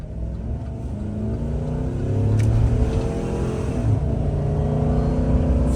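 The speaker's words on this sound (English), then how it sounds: "you guys are going to get a full throttle in the old van" An old van's engine pulls hard at full throttle, its drone rising steadily in pitch and loudness as it accelerates, heard from inside the cabin.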